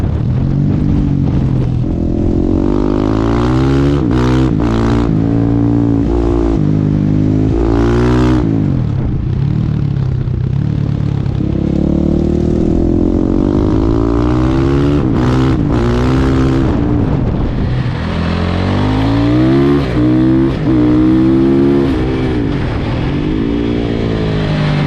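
A motorcycle at full throttle on a race track, ridden as fast as possible, screams loud and close through repeated rising revs and quick gear changes, with the engine pitch climbing and dropping over and over.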